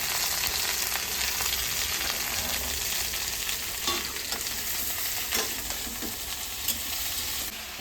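Radish with salt, alongside stalks and potato, being lightly fried and stirred in a pan, a continuous loud sizzle with occasional scraping stirs and soft clinks, close and steady without speech.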